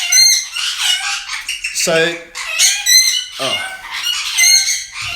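Pet birds in a workshop squawk and screech in repeated shrill bursts with squeaky cluck-like calls, loud and close, while a person speaks briefly underneath.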